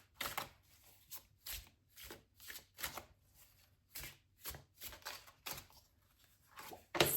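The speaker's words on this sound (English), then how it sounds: "So we'll get a couple of these transparent tarot cards. I'm going to shuffle those back in." Transparent tarot cards shuffled by hand, a series of crisp riffling bursts spaced about half a second to a second apart, close and fairly quiet, with no talk.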